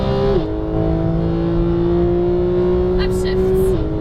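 Porsche 991 GT3 at full throttle on the Exotics Racing track in Las Vegas: a loud, close engine drone holding a high steady pitch, with gear changes near the start and end and a brief voice near the end.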